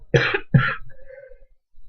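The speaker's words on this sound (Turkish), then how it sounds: "Özür dilerim arkadaşlar öksürüyorum." Two quick, harsh coughs close by, followed by a faint tonal trail and quiet, heard over Euro Truck Simulator 2 gameplay.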